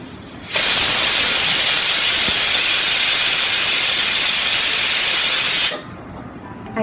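Loud, steady steam hissing from a pot of rice cooking for paal payasam, bursting in abruptly, holding constant for about five seconds and then cutting off, close and unaccompanied by speech.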